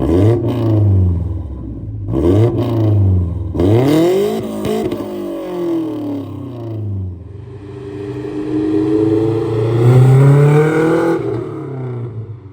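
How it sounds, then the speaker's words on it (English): A Nissan D21 Hardbody truck's exhaust revs repeatedly, rising and falling in sharp bursts, then settles into a rough, rumbling idle up close. "I'll cue an exhaust clip"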